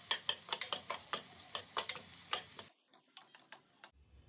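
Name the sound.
onions frying in butter until brown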